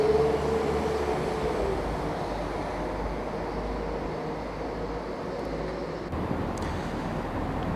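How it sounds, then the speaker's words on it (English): A steady low rumble of a train pulling out of Birmingham Moor Street Station, with a brief high squeal near the start and a continuous mechanical drone throughout. "Just a train pulling out"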